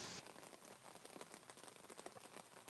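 Rain falls steadily on a surface outdoors during fishing, a faint, even patter of drops with small scattered taps and no voices.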